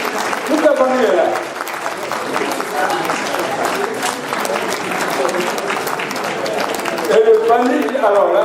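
An audience claps steadily for a family being honoured, the dense applause lasting the whole stretch while someone talks over it near the beginning and again toward the end.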